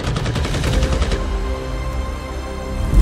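A PPSh-41 submachine gun firing on full automatic, a loud rapid stream of shots that runs on continuously before tailing into a ringing echo, with a sharp burst at the end.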